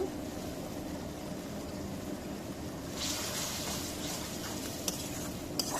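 Egg curry with chili powder and ginger-garlic paste is stir-fried in a pan, with a constant low sizzle, scraping stirs and a couple of sharp utensil taps near the end.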